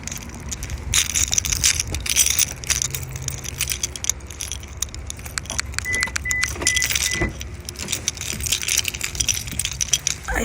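Car keys jangle and clink in bursts close by, with scraping and handling sounds between them, outdoors next to a parked car.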